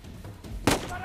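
A single sharp gunshot blast in Uncharted: Legacy of Thieves, loud and brief, standing out above a low game backdrop.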